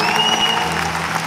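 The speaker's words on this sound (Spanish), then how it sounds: "también quisiera compartir este aplauso" Dense, steady applause from a large arena crowd at a concert night, sustained throughout with faint tonal music or voices ringing above the clapping wash.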